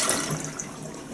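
A push-button toilet in a Quality Inn hotel bathroom near DFW Airport in Irving, Texas flushes with a steady, fairly close rush of water.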